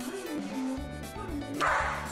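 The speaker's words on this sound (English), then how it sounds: "Nice dog in a cone." A dog wearing a cone gives short yips and bow-wow barks with a whimpering edge, close and fairly loud, partly overlapping a voice.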